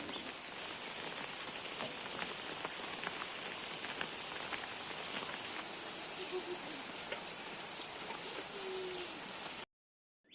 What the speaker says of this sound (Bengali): বৃষ্টিটা একটু থামছিল আবার শুরু হয়েছে